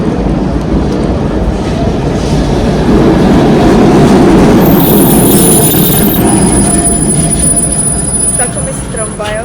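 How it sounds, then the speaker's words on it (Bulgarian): A Milan tram pulls into a stop with a heavy, steady rolling rumble, its wheels squealing in high, sustained tones that rise in the latter half, while people talk faintly nearby. "Чакаме си трамвая"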